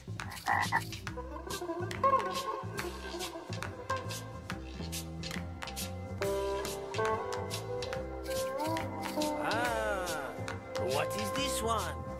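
Repeated frog croaks in quick rhythmic pulses, loud and close, continuing steadily throughout.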